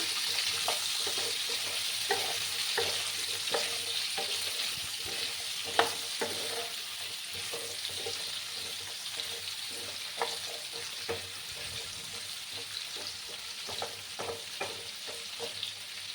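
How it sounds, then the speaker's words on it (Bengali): Pumpkin and potato pieces fry in a pan with a steady, continuous sizzle, punctuated by frequent scraping clicks of a spatula stirring them, moderately close with no talking. "আরো 2 মিনিটের মতো আমি কুমড়ো আর আলুগুলোকে একটু ভেজে নিচ্ছি বন্ধুরা।"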